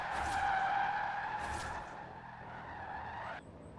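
A car drifts in Forza Horizon 4, its tyres letting out a sustained loud skidding squeal over the engine's drone, easing off slightly toward the end with no voices.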